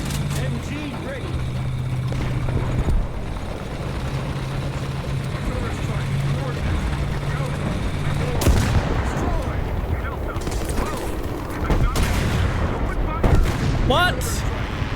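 Machine-gun fire and explosive booms sound from a War Thunder battle, with rough engine rumble underneath and a voice talking over the combat noise.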